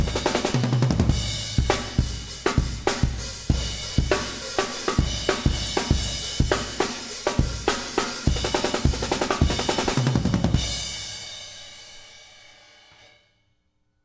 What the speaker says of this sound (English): When you put them all together,